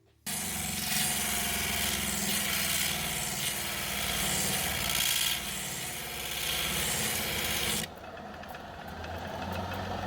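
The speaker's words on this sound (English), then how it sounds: "It doesn't get slowed down by grinding a rock on those wheels." Nova sanding wheels grind a rock during break-in, a continuous rasping, rubbing whir under a low motor drone that eases and shifts in tone near the end.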